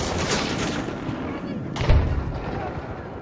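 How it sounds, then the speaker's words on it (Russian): A grenade goes off in a Battlefield 2042 Breakthrough match on PS5: a dull, heavy thump stands out briefly against continuous distant gunfire and battle noise, and a voice shouts across the fighting. "Граната пошла!"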